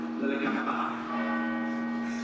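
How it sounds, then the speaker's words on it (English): Church bells ring on through a talk in Italy, a steady sustained peal with a clear ringing tone holding for about two seconds, moderately loud with no other voices. "Interrupted by church bells."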